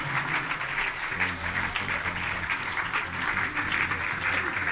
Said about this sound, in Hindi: तालियां लगातार अनगूंज होना चाहिए।